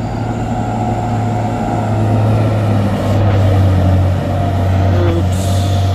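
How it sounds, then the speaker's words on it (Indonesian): A Hino truck grinds uphill on a rough mountain road, its diesel engine droning steadily and loudly up close with a low sustained hum and slight shifts in pitch as it labors. "Truk Hino mencoba naik."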